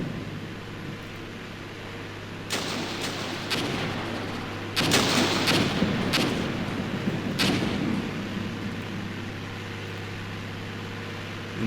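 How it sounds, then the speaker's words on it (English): Artillery fire in the wargame Armored Brigade comes as several heavy booming impacts spaced a second or two apart, some overlapping into a rumbling cluster over a steady low background hum. "He's taking pretty heavy artillery fire."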